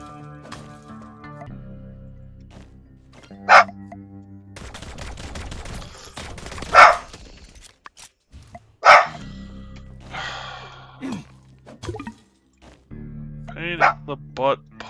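A dog barking in the video game My Time at Sandrock, several loud sharp barks spaced out among game sounds and effects, with a voice talking at times.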